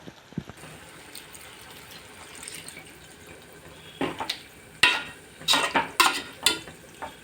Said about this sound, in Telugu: బాగా కలుపుకున్నాక వాటర్ వేసుకోవాలి.